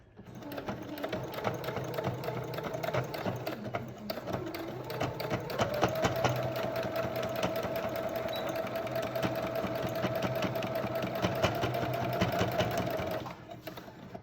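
A sewing machine stitches a fabric surgical mask in a fast, steady mechanical rattle, close and continuous for most of the stretch, slowing briefly near the start and stopping at the end.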